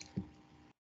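An object dropped into a container of water for a sink-or-float test gives a single soft, low plop with a brief wet squish, close and quiet, then silence.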